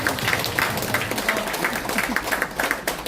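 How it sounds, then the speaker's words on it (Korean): An audience applauds at a Korean gathering of writers, a steady wash of many hands clapping at moderate loudness throughout, with no talk over it. "박수 한번 박수 한번"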